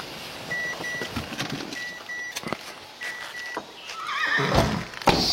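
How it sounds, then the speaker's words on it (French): Horses on a forestry plantation in New Caledonia, kept to clear the undergrowth, neigh and whinny several times in the open, with scattered bird calls and background noise around them. "Là, c'est les chevaux qui nettoient."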